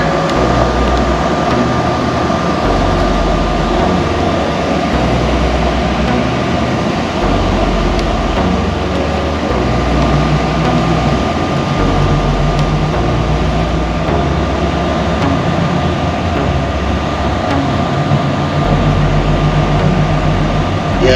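Strasburg Railroad train rolling past in Amish country near Lancaster, Pennsylvania, a steady loud continuous rumble and drone with a faint tonal hum, sustained evenly throughout without voices.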